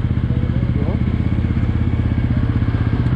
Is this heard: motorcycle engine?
yes